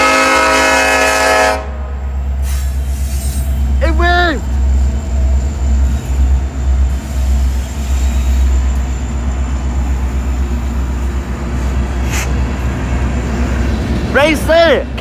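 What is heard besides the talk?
SD70MACe freight locomotive passing, sounding its K5LA horn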